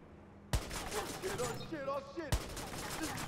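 Video game gunfire from Watch Dogs, with two loud sharp shots cracking through a busy game soundscape. A voice is heard between the shots.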